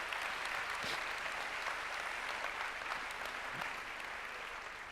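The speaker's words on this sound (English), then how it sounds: "give yourselves a round of applause." Applause from an audience at a business opportunity presentation, steady and fairly quiet, heard at a distance as a continuous wash of clapping with no speech over it.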